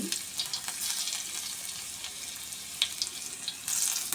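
Mustard seeds, cumin and garlic frying in hot oil in a pan, a continuous close sizzle with scattered sharper crackles and a louder burst near the end, with no talking.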